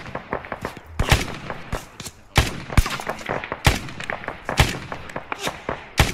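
Long-range gunfire in the video game Arma 3, a steady stream of sharp cracking shots with irregular rhythm, some loud and close, others fainter and distant, with no talking.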